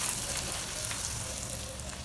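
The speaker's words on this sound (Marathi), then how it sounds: "आता अलगत एक एक पुरी आपण तेलात पुरणार आहोत" Puris deep-frying in hot oil over medium flame, a dense, continuous bubbling sizzle, close and fairly loud, with no voices.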